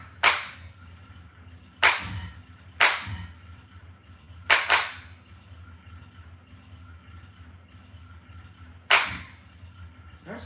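Sharp gunshots from a light gun shooting video game, about six separate loud cracks at uneven intervals, each followed by a short decaying tail, with a low steady hum between shots.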